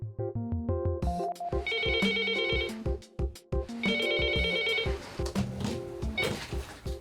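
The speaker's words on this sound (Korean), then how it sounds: "가장 반가운 건 전화벨 소리랍니다" An electronic telephone ring sounds in a rural taxi office in Pyeongchang, repeating a melodic tone pattern in bursts over several seconds, loud and close, with no talking.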